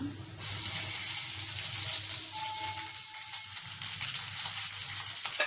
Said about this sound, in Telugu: ఒక రెండు స్పూన్ల నూనె వేసుకొని పచ్చిమిరకాయలు ఫ్రై చేసుకుందాం